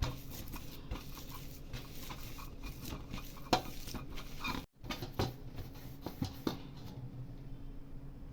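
Coloured coconut mixture for no-cook coconut roll mithai stirred and mixed in a bowl, with repeated scraping and soft knocks of a spoon against the container, close and moderately loud, with no talking.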